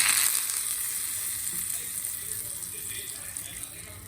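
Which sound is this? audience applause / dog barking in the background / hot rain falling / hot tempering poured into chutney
hot tempering poured into chutney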